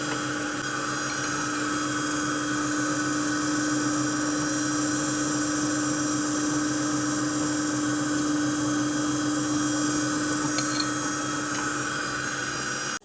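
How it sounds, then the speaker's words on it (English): A stand mixer with a folding attachment folds flour and cherries into cake batter for a cherry cake, a constant close motor whir with a steady tone that runs unbroken throughout, no talking. "we're just using the folding attachment to gently fold in the flour and the cherry mixture"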